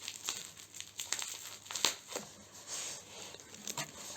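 A plastic-wrapped package being torn open by hand gives close, quiet crinkling and crumpling with sharp snaps and tearing pulls at irregular moments. No one speaks.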